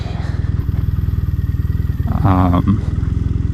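A Triumph Bonneville motorcycle rumbles close by with a steady, loud, pulsing engine beat, and a brief louder surge and clatter comes near the end as it rides past.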